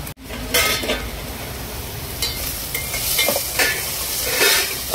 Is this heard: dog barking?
no